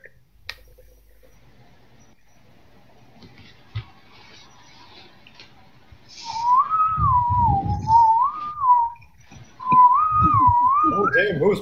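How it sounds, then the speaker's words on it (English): A person whistles a wavering, flute-like tune in two bright phrases during a Cards Against Humanity game chat, with laughter and chatter beneath, after a quiet start with a few clicks. "No, I'm whistling."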